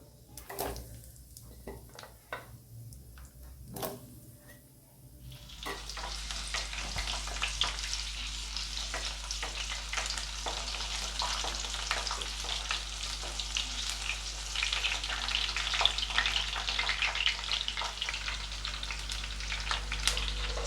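Small shallots drop into hot sesame oil in a clay pot. A few quiet clinks come first, then a sudden, loud, continuous sizzle starts about a quarter of the way in and crackles steadily close by, with no speech.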